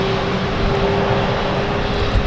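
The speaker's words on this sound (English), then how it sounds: "Another aircraft starting up as well is the Thessaloniki flight" An airliner's engine spools up at London City Airport, a steady broadband roar with a constant whine layered through it, loud and close, holding level throughout with no voices.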